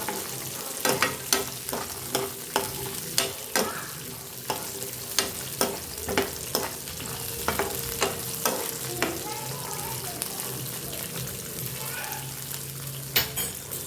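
Peanuts, green chilli and garlic frying in a pan for chutney, with a steady sizzle under sharp, irregular scraping and tapping of a spoon against the pan as the mixture is stirred, close and fairly loud.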